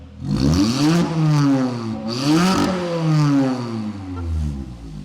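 A Honda Jazz with a loud aftermarket exhaust revs hard a few times, raspy, rising and dropping in pitch, close and rough with a rattling edge.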